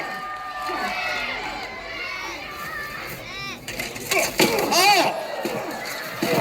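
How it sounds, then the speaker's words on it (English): Spectators at a medieval combat show at Kenilworth Castle shout and cheer, a loud mixed crowd clamor rising toward the end, with an excited voice calling out over it. "The crowd making their feelings perfectly well known."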